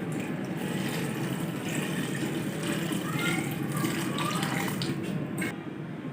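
Two glasses of water splash and pour steadily into a pot of beef, chillies, turmeric and salt for shami kabab, a continuous running, gurgling wash that keeps going for several seconds.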